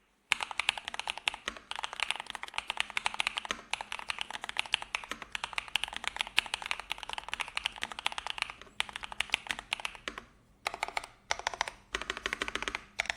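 A mechanical keyboard with a clean sound typed on quickly and continuously, a dense run of close, crisp key clicks with brief pauses near the end.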